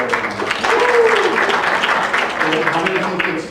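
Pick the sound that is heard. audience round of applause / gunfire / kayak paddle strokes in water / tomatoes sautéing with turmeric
audience round of applause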